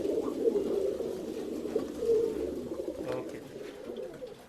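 Pigeons in a bird-sale loft give a low, steady throaty cooing that rolls on continuously, close and moderately loud, with no talking.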